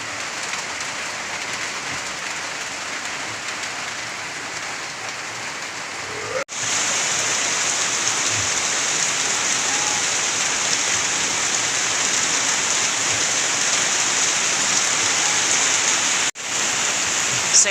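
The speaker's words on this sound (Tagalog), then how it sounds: "Grabe, mas lalong lumakas talaga ngayon yung ulan." Heavy typhoon rain pounds the roofs of a pig pen in a steady, loud, dense hiss that continues without a break, apart from two brief dips.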